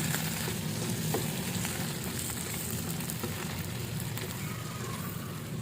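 Large shrimp fry in butter and garlic in a pan, a constant dense sizzle with faint scattered pops, close and steady throughout.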